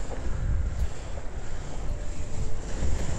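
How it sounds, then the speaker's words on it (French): Strong gusty wind roars across the microphone while kitesurfing on the coast, a loud continuous rumbling buffet that swells and dips without pause, no talk. "C'est ultra rafaleux, c'est dingue."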